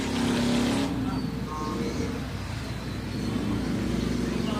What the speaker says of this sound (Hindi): ट्रैफिक गुजर ले